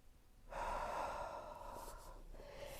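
A single deep, deliberate breath is drawn in close to the microphone during foam rolling, a long airy inhale that starts suddenly and fades slowly over a couple of seconds, with no talking.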